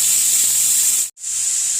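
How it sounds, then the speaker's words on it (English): Bacon steams and sizzles in a pan, a steady close hiss with a brief cut in the middle. "the bacon is going. You see the steam."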